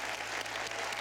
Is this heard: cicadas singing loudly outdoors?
no